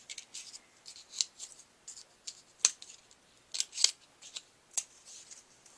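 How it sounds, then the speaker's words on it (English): Scissors snip through small scraps of orange and black paper in a series of crisp, irregular cuts, close and clear against near silence. "Just get little scraps of orange and black paper, and I just start at the edge and just cut up a little bit"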